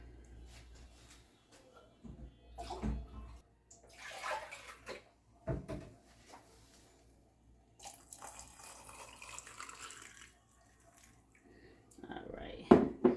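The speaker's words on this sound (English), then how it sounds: "just fill it up with filtered water" Room-temperature filtered water poured into a glass jar, several bursts of running and splashing water separated by pauses, close by, with some quiet speech between the pours.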